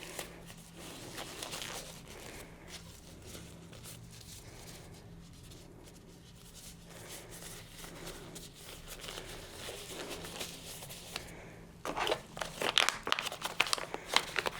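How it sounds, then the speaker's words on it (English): A FireWrap fiber tape package is torn open with soft crinkling and rustling of plastic that grows louder, crisper and more rapid near the end, with no voices. "Open up your fiber tape."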